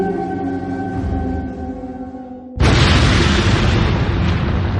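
A nuclear explosion sound effect hits abruptly after a low droning tone, a sudden massive boom that swells into a sustained, loud rumbling roar.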